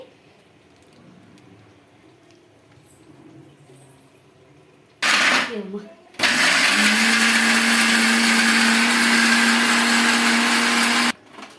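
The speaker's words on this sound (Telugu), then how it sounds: "కొద్దిగా పెరుగు కొద్దిగా వాటర్ వేసుకొని స్మూత్గా గ్రైండ్ చేసుకోవాలండి" A mixer grinder whirs loud and steady for about five seconds, grinding cashews, curd and water into a smooth paste for Mughlai chicken, after a brief start-up burst and quiet kitchen background.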